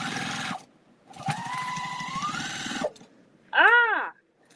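A sewing machine stitches a quilted fabric postcard in two short, close bursts of rapid needle chatter, followed by a brief vocal exclamation.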